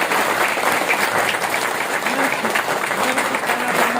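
Loud, sustained applause from a large crowd gathered at a Shani Dham temple event, dense clapping filling the space, with faint voices mingled underneath.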